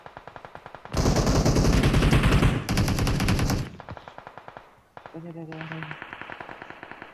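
Automatic gunfire in PUBG Mobile, rapid loud bursts of repeated shots close by, pausing briefly before more firing resumes, with a voice speaking over part of it.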